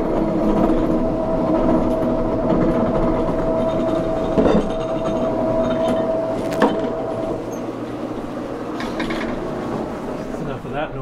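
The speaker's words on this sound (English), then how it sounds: "you can listen to the sound, and the pitch change will allow you to determine" A Hollander beater, aluminum-built, churns paper fiber pulp with a steady loud mechanical drone and rhythmic grinding hum, continuous throughout with occasional sharper clicks.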